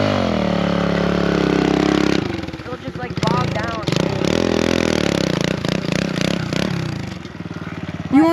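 Dirt bike engine running with a steady mid-range drone, then choppier revving and clattering bursts as the throttle is blipped, close and loud throughout, ending on a sharp rev.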